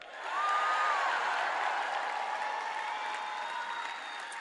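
A large convention crowd of about 5,000 at Minecon cheering and clapping, a broad sustained roar that swells in after a moment and holds steady, distant and diffuse, with a brief whoop rising above it early on.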